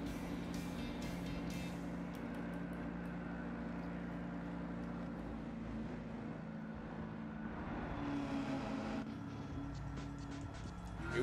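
Car engine in Gran Turismo 7 driving at a steady drone with gear-change rises and a sharp surge near the end, a continuous game-engine tone with no talk.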